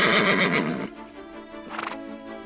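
Wild horses in Torres del Paine, Patagonia, give a loud, close whinny that breaks off, followed by a shorter, fainter snort and a few soft hoof clops over open-air quiet.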